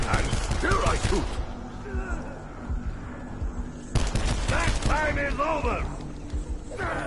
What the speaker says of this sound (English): I still breathe, and still I shoot.